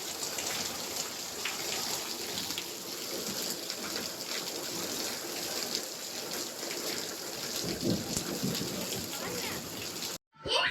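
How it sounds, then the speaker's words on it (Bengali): Heavy rain pours steadily outside a home in Bengal, a dense continuous hiss throughout with no distinct thunderclap. "দেখো আমাদের এদিকে কেমন জোরে জোরে বৃষ্টি হচ্ছে"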